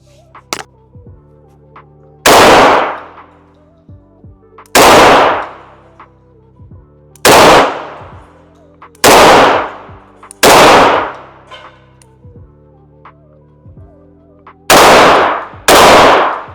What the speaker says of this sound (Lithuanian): Padarėm 7 šūvius.